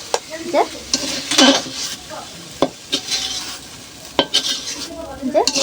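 Taro leaves stirred in oil in a kadai, with repeated sharp scrapes and knocks of a spatula against the pan over a continuous close sizzle.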